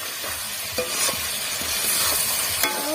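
Chicken with a little chilli powder stirred in a hot pan during a quick chicken kasha, giving a steady sizzling hiss with soft, irregular scrapes, close and fairly loud, with no speech.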